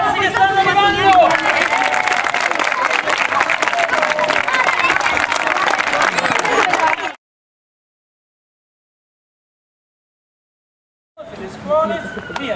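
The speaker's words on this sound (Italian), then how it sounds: "Un applauso a tutti i ragazzi che stanno arrivando!" Crowd applause and cheering greet children arriving at a school event in Italy, a loud sustained burst of clapping and chatter for about seven seconds, then a silent gap before more crowd noise resumes.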